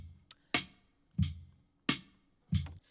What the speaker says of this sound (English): I took the overhead mic and I pushed it into amp simulator.